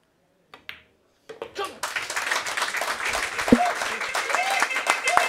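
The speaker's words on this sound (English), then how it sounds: "Let's hear the crowd." A crowd bursts into sustained applause at the final of a 9-ball pool tournament, following a few isolated taps, with clapping swelling and holding under some voice.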